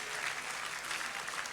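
An audience claps steadily through a Christmas celebration, a soft, even patter of many hands heard from a distance with no speech over it.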